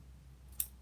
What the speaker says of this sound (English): Big scissors do work.